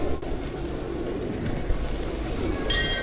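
Pigeons flock at a pigeon temple in Kathmandu, a steady busy crowd din of wings and cooing in a bustling outdoor square, with a brief brighter burst near the end.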